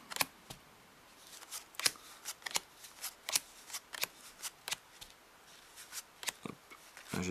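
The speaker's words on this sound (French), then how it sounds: "comme on voit une carte qui est quand même de différentes couleurs, si la carte est mise à l'envers dans le jeu" A deck of Bicycle Ombre playing cards being shuffled by hand, close and quiet, with repeated quick riffling bursts and soft flicks at an irregular rhythm; no talking.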